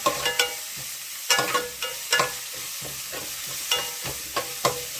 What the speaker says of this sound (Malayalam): നല്ല രീതിയിൽ വൃത്തിക്ക് വഴറ്റിയെടുക്കുക